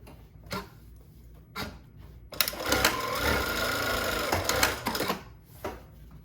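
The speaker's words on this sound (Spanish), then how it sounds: "cuando yo termine de coser, el prensatela va a quedar arriba." A JUKI DDL-8000A industrial sewing machine runs in a fast, dense whirring stitch burst of about three seconds, framed by a few sharp mechanical clicks from thread trimming and the presser foot lifting.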